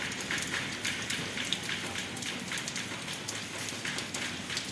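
Steady rain pours down in Quixeramobim, Ceará, a dense continuous hiss with scattered drops pattering on a hard surface, close by and fairly even throughout.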